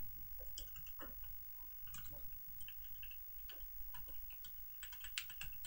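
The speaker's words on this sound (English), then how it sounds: "Let's test the keyboard." Irregular clicking keystrokes on a repaired computer keyboard, close and fairly faint, tapping along steadily without anyone speaking.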